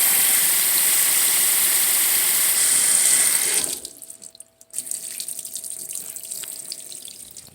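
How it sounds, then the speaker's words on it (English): A GE GTW465 top-load washing machine fills on its deep fill setting, a loud steady rush of water pouring in that cuts off abruptly partway, leaving a quieter mechanical hum and faint clicks. "test of the GTW465 washer's deep fill function. We'll go ahead and see how high up it fills."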